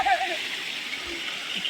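Water splashes and spatters from a leaking pipe joint while a drum fills in a village, a steady close hiss with voices talking over it.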